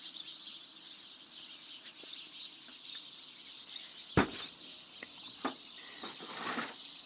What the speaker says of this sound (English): The starlings are very loud this evening